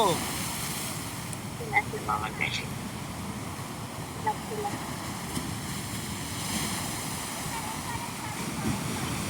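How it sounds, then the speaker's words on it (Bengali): Sea waves breaking on a beach, a continuous broad roar of surf with wind buffeting the microphone, steady and fairly close, with a few brief voices in the background. "দেখো ঢেউ আসছে, দেখেছো কত বড় ঢেউ আসছে?"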